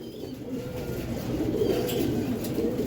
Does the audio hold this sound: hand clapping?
no